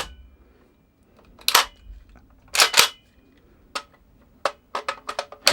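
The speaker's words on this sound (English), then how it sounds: "it's kind of locking back after the last sort of shot, so to speak, as though the gun's empty" A KWA AKG-74 airsoft gun fires its last few sharp, close clicking shots in short irregular pops, followed by a snappy mechanical clack as the bolt locks back on empty.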